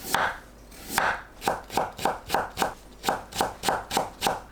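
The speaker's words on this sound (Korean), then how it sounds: "양파와 당근을 얇게 채 썰어 준비합니다" A knife chops rhythmically on a cutting board, thinly slicing onion and carrot, starting with a few slower cuts and then speeding into quick, even strokes.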